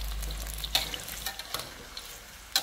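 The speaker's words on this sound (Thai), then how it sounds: "เมื่อน้ำมันเดือดแล้วลดไฟลงเป็นไฟกลางนะครับแล้วนำมะเขือลงไปทอดนะครับ" Eggplant frying in hot oil in a wok over medium heat: a steady close sizzle with scattered crackles and a few sharper pops, heard alone with no voices.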